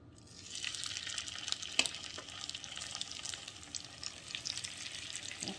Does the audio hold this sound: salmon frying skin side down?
yes